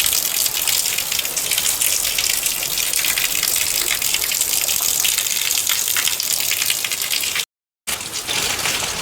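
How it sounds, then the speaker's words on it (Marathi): Heavy monsoon rain pours down steadily in a dense, even wash of broadband noise that lasts the whole stretch, with one brief gap of silence near the end before the downpour resumes. "आता 3 दिवस एक मोठा पाऊस पडतो आहे, रात्रंदिवस."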